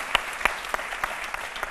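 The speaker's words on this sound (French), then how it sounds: "On applaudit très fort pour la RTI" Studio audience applause on a Côte d'Ivoire RTI television show, a steady crowd clapping with a few sharper individual claps standing out at regular intervals, moderately loud and continuous with no talk over it.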